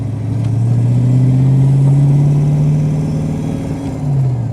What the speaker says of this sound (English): There is a bit of a power steering whine.